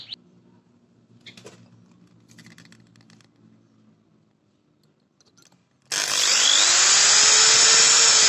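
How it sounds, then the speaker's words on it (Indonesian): A power drill fitted with a 2 mm bit starts abruptly after quiet handling clicks and whines loud and steady at close range, with its pitch rising and falling during work on a Yamaha RX King motorcycle clutch. "saya bor dulu"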